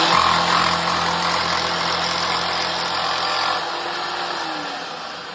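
A Lidl jigsaw table runs at speed with a loud, steady mechanical buzz and whine, easing slightly quieter toward the end, with no talking.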